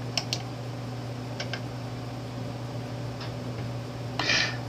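A computer mouse clicked on a Windows 8 PC: a few faint, sparse clicks, the last one slightly louder, over a steady low electrical hum.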